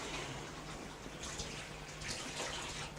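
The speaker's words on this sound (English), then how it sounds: "So I'm just going to take the water to run." Water pours steadily from a tap in a continuous hissing rush, close and fairly loud, with no talking.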